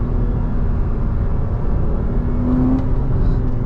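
A Porsche 987.2 Boxster base with manual gearbox accelerating, a steady engine drone under heavy wind and road rumble with a brief rising note near the end, recorded from inside the car.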